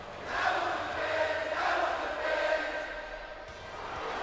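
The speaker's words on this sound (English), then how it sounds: "Y'all hear the crowd?" Wrestling arena crowd in WWE 2K22 NXT 2.0 cheering and chanting in rolling swells, a broad roar of moderate loudness that rises and falls over several seconds.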